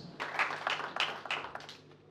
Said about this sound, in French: Je pense que nous leur devons les applaudissements.